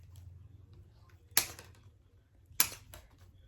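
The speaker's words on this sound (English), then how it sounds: "And then I just go snip, snip." Two crisp, sharp snips of scissors cutting flower stems for a lemon wreath, spaced about a second apart, close and isolated against a quiet background.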